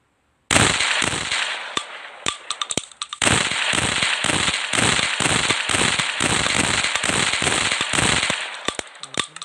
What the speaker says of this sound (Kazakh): Звуктарды да өте күшті, әрі қаруға шынайды.